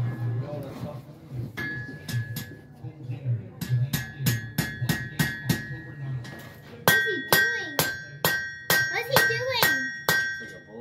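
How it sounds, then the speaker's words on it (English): A blacksmith's sharp metallic hammer strikes on hot metal ring out at a fall fair, first scattered, then in a steady rhythm of repeated ringing blows, with a person talking underneath. "He's moving it around with the hammer."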